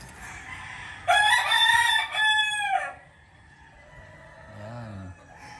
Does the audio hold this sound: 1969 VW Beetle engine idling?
no